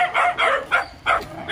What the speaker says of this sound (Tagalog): Kasama pa namin yung mga aso.